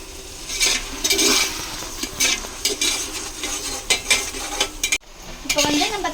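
Ginger garlic paste sautéing with onions in a pot for biryani, with scraping spoon strokes and clinks against the metal under a steady sizzle, a brief break near the end before stirring resumes.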